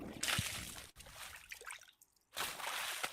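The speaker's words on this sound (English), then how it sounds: "that's him just like splashing water" Water splashes for a creature sound effect in a short burst of wet sloshing, a pause, then a second louder splash, all fairly quiet and close.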